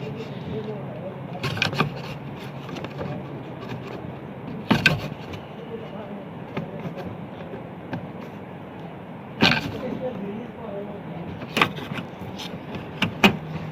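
A car door lock is pried open with a wooden stick, making repeated scraping and knocking clicks with several sharper bangs against the door, close up over a steady background hum.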